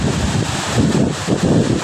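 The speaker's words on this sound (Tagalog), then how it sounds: "tingnan nyo guys kung gaano kalakas yung hangin dito sa amin ngayon" A strong morning wind in San Juan, Pamplona, Cagayan Valley batters the microphone with a loud, continuous rushing roar that swells and eases in short gusts.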